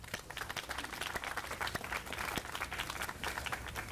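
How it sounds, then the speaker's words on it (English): A crowd at a city cleanup campaign kick-off in Savannah applauds the cleanup workers, with dense clapping at moderate volume and sharp individual claps standing out. "Let's give them a round of applause"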